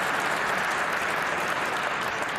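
A crowd applauds a shot at the 2023 World Pool Championship final, a steady, dense patter of clapping that holds at an even level throughout without a break.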